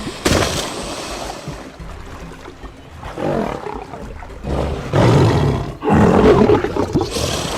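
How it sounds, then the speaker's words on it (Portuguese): A lion roars in powerful, deep, rumbling bursts, loud and close, with several surging calls building in strength toward the end and no other sounds over them. "O rugido do leão é tão poderoso que pode ser ouvido a 8 km de distância."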